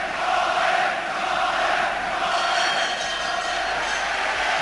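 A boxing crowd at the Colin Jones versus Billy Parks fight roars and cheers for Jones at the end of a round, a dense, steady wall of crowd noise holding at full level throughout.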